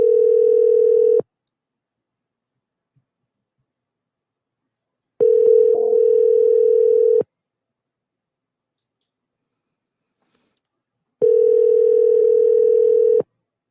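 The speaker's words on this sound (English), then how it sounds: "I actually dialed the wrong number" A telephone dial tone drones steadily after a wrong number is dialed, sounding in three separate bursts of about one to two seconds each, split by long silent gaps, clear and alone.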